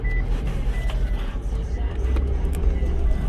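A 2007 Mitsubishi Endeavor fitted with the wrong fuel pump drives under its own power, a low rumbling engine and road noise heard from inside the cabin, steady with faint intermittent clicks.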